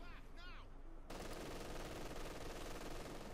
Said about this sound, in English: MG-42 holding up the shock troopers